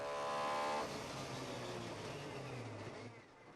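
Rally car engine heard from the cockpit during a UK Rally Challenge stage, a loud steady roar that eases slightly after the first second and carries on with low droning tones, with no talk.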